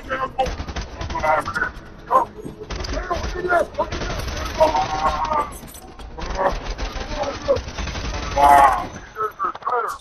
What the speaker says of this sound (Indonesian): baku tembak pun terjadi dengan sangat sengit